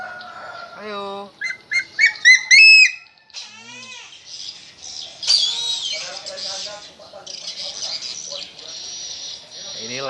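A Sumatran black eagle calls with sharp, squealing, warbling cries, rising and falling in repeated bursts at close range, some notes loud and piercing, others thinner and drawn out.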